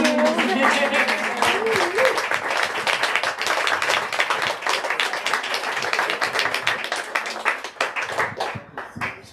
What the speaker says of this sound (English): I hope you're not done clapping